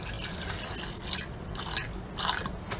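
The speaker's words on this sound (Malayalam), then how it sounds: "വെള്ളം ആവശ്യത്തിനുള്ളത് ഒഴിച്ചു കൊടുക്കുക" Water is poured into a cooking pot of salted green peas on the stove, producing a steady splashing, dripping trickle with a few louder bursts of pouring.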